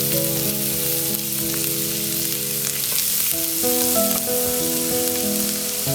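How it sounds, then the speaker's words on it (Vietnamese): Steady sizzling of garlic frying in hot oil, with a sustained tonal hum layered over the crackle throughout. "Đầu tiên mình sẽ phi thơm tỏi trước."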